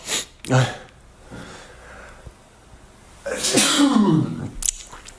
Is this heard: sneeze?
yes